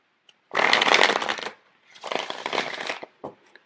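Tarot cards are shuffled twice in quick riffling bursts, close and crisp, followed by a short final tap as the deck settles, with no talk.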